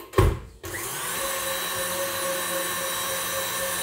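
An electric hand mixer whips egg yolks with sugar into a ribbon for tiramisu ice cream, starting after a short knock and then running as a loud, steady whir.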